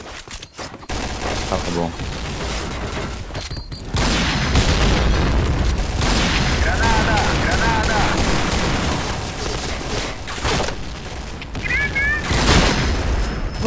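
Grenade blast and bursts of gunfire in a sniper shooter game set in a city map, loud booms and rapid shots layered over game music while players talk throughout.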